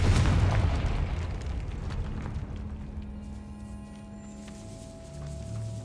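A Confringo blasting spell explodes in Hogwarts Legacy, opening with a loud, close boom that rolls off into a lingering rumble and a low steady hum.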